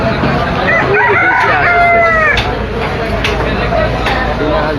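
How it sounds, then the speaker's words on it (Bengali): A rooster crows with a rising, drawn-out call amid busy fish market noise in Chandpur with local chickens and ducks for sale and background chatter, with a few sharp knocks after. "একদম তরতাজা দেশি মোরগ মুরগি রয়েছে এখানে"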